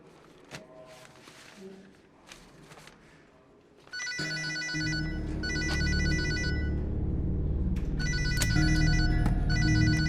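An office telephone at a police station starts ringing partway through, a loud repeating electronic ring over a low hum, after a quieter stretch of faint clicks and shuffling.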